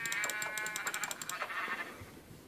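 Sheep bleats from the video game Minecraft, a couple of short wavering baas over a soft game background, fairly close and clear with no talk.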